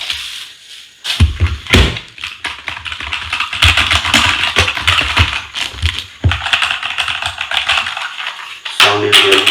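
Typing on a new mechanical keyboard after unboxing. Loud, close key clacks come in quick irregular bursts with brief pauses, and a sharp cluster of hits marks the end.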